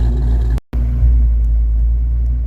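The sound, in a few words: Mustang engine idling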